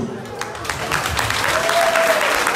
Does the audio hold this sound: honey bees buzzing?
no